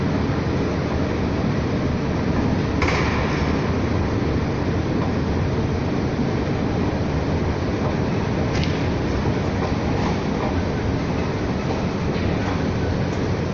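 An underground metro train runs steadily throughout, with a continuous loud rumble of wheels on track and a few brief metallic accents, with no talking.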